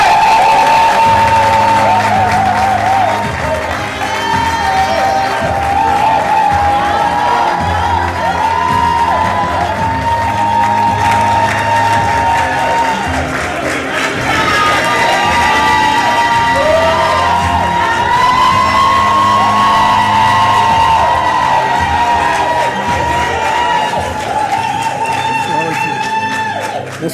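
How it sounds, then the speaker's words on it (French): A crowd cheers and acclaims a presenter as she is welcomed onstage at a formal evening event, a loud, sustained roar of voices blended with music-like tones that holds steady for the whole stretch. "Naomi, est-ce qu'on peut l'acclamer s'il vous plaît?"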